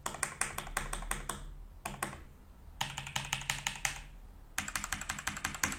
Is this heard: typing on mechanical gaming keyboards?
yes